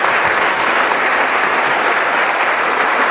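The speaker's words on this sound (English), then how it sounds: "Let's give them a round of applause" Steady, dense applause from a large audience at a Vermont State House celebration of the 19th Amendment, loud and continuous throughout with no voices breaking through.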